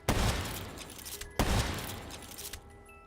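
Two sustained bursts of rapid submachine gun fire in Call of Duty zombies on the Kino der Toten map, each a loud dense rattle lasting over a second, with faint clinking in the gaps.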